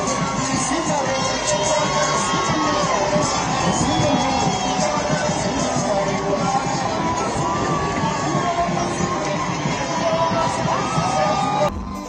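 Football fans crowd an airport to welcome their team as staff line the runway, a loud, dense and unbroken roar of cheering, shouting and whoops that holds steady for about twelve seconds.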